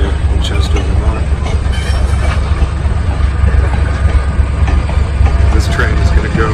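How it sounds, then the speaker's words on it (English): A train on the railway in Chester, Vermont, the first run of the fall foliage season, rumbling steadily nearby with a loud low throb and scattered metallic clicks and squeals over its idling engine. "this is actually the first train of the fall foliage season, starting here in Chester, Vermont"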